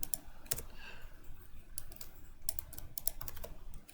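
Rapid typing on a computer keyboard, close and fairly quiet, with irregular bursts of key clicks and short pauses, no voice.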